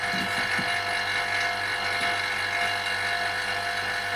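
A vacuum pump seals a container of rice, giving a steady, close mechanical hum with a thin high whine that holds unchanged throughout, with a few faint knocks early on.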